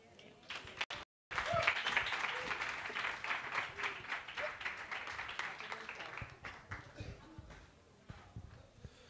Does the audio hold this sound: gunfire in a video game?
no